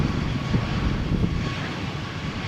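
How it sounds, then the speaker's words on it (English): Ryanair jet airliner accelerating down the runway on a stormy morning at Malaga Airport, a steady broadband roar of engines with low rumble, fairly loud and constant, no voices. "Let's go, Ryanair. Takeoff speed 13 knots, 18 knots, 30 knots"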